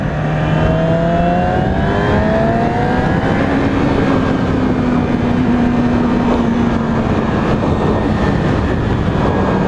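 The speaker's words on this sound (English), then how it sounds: "You still kind of have to rev the crap out of it to get it to really get the power." A 2016 Yamaha R6 sport motorcycle on a test ride, its engine droning loud and continuous with slowly shifting pitch, mixed with steady road and wind roar throughout.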